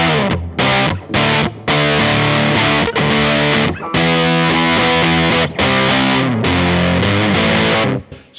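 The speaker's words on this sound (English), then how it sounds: "So it's a kind of rhythm guitar mild lead sound." Electric guitar runs through an EarthQuaker Devices Hoof Reaper pedal on the Reaper side for a mildly dirty rhythm and light lead tone, loud chords and riffs punctuated by brief gaps, alone without talk.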